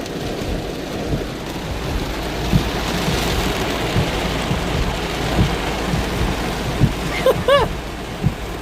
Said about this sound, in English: Meanwhile, it's raining.